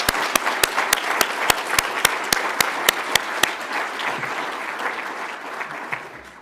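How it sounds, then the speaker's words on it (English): Applause rising from the audience at an associate degree nursing pinning ceremony, a dense sustained wash of many hands clapping that thins and tapers away toward the end, with a few sharp louder claps punctuating the first half. "please give another round of applause for Dr. Joe Fisher."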